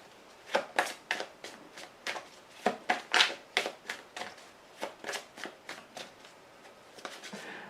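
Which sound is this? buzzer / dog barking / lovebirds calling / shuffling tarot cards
shuffling tarot cards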